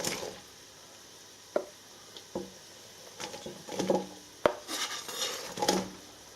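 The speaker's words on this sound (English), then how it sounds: "So I'm going to add my 4 chopped onions." Chopped onions tipped into a balti pan with coconut oil make a quiet scatter of soft patters and light metallic clinks and scrapes, spread in short bursts over a few seconds, with no talking.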